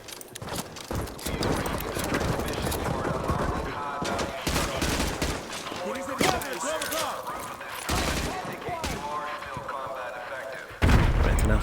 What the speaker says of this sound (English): I like the rapid fire.